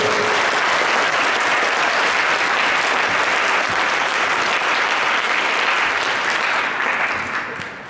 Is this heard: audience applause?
yes